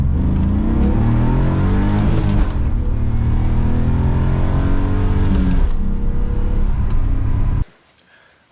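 A drift car's engine drones loud and steady on a test drive, revving with shifting harmonic sweeps, then cuts off abruptly near the end, leaving near silence.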